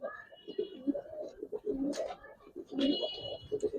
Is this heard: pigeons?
yes